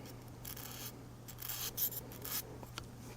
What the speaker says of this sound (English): all you want to do is take the burrs off